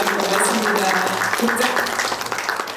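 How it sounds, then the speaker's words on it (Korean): Audience applause after a poetry reading and saxophone performance at a humanities lecture forum, a steady wash of clapping from a hall crowd lasting the whole stretch, fairly loud and even. "다시 한번 큰 박수 부탁드리겠습니다"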